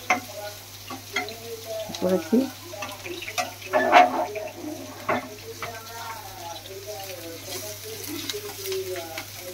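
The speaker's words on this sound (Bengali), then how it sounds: "ওইটা চিকেনটা তো কারি পাতার ছাঁকা তেলে সুন্দর থাকছে, ছাঁকা তেলে ভাজা হবে" Oil sizzles steadily in a pan during home cooking of chicken 65, with chicken frying in deep oil with curry leaves, a soft constant crackle and occasional ticks under a woman's speech.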